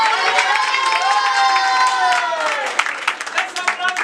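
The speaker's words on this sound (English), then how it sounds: "So clap everyone." A roomful of people clap together at a role-play event, bright brisk clapping mixed with cheering and excited shouts that rises loud at first, then breaks into scattered, uneven claps toward the end.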